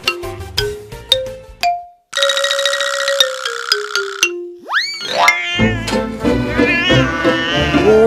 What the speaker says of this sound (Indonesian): Kucing gak ada sopannya.